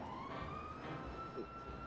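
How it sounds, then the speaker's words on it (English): Police sirens in a video game wail steadily in the background, a rising tone sustained over a dense, noisy game ambience with no talking. "I don't want to be near these sirens anymore."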